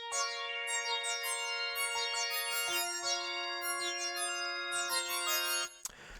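Synth lead pluck key patch from Analog Lab with added effects, playing a bright melodic line of sustained plucked notes, clear and upfront with no voices.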